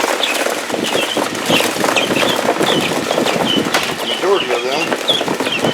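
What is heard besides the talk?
guinea fowl clucking while being transferred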